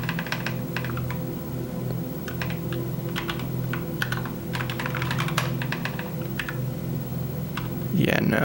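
A computer keyboard is typed on in quick irregular clusters of clicks over a steady hum, with a voice talking briefly near the end.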